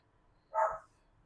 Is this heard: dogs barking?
yes